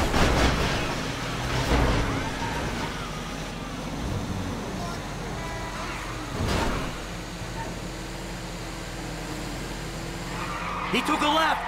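Tires squeal and skid during a car chase in Grand Theft Auto 5 after a small battery-powered car, engine noise and screeching throughout, with loud shouting over it and a sharper skid near the end.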